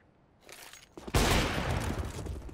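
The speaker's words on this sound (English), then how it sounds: "Here I shoot before he even reaches the crosshair" A sniper rifle fires in a competitive shooter game: a sharp, loud gunshot bursts out after quieter rustling and lingers as a sustained roar of gunfire and game noise to the end.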